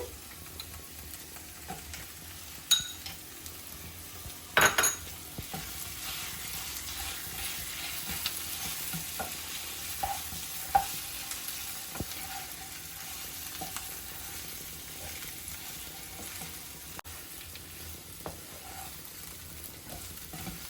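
Ivy gourd fry being stirred in a hot pan with ground onion-chili powder, a steady close sizzle of frying throughout with occasional scrapes and knocks of the spoon against the pan, no talk.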